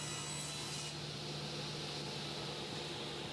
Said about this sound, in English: restart the saw, and put the piece back into the blade